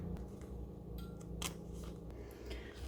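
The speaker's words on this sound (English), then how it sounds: "Now we can take the seam ripper and cut little slits, not through the lining, only through the front here." A seam ripper cuts small slits through the front fabric of a bag, producing faint, quiet snipping clicks at close range in an otherwise hushed room.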